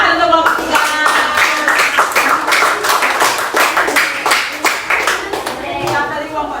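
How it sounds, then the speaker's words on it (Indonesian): A classroom of students claps for a group presentation, with distinct, fairly quick individual claps close by in a lively irregular rhythm, and a voice speaks briefly at the start. "tepuk tangan untuk kelompok 3"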